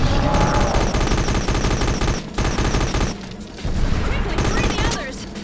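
Rapid gunfire from the Dredd vs. Death video game rattles loud and continuous, with bursts broken by a couple of brief pauses, while a voice talks over the shooting.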